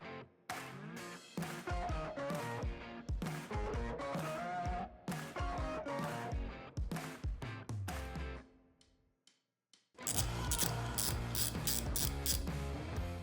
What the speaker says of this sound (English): So I'll just use a tap and die set, tap this out, put a screw in there.